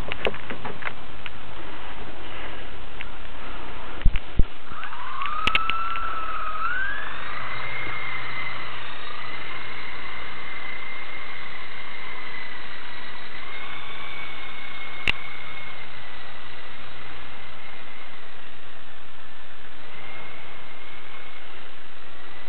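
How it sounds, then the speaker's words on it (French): A Blade CX radio-controlled helicopter flies close by, its steady high-pitched rotor and motor whine holding continuously, with the pitch rising and wavering as it lifts off and manoeuvres. "je vais mettre la caméra sur l'hélicoptère"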